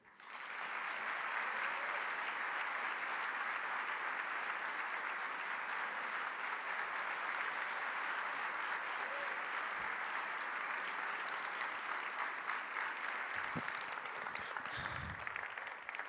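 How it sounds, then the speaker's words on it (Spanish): A large audience applauds loudly and steadily to welcome Argentine President Javier Milei at a speaking event, a dense wash of clapping that holds for the whole stretch, with a few faint voices near the end. "le pedimos un muy fuerte aplauso para recibir al señor Presidente de la Nación, Javier Milei"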